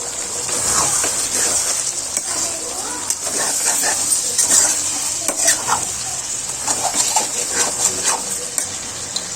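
Masala with chopped tomatoes, garam masala and coriander powder is stirred in a hot pan for chicken curry, a sizzling base under repeated spoon scrapes and clinks, close and busy, with faint voice traces.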